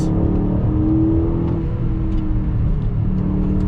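A 2021 Aston Martin DBX performance SUV with all-wheel drive accelerates on a track, a steady loud exhaust drone with a rising engine tone held throughout.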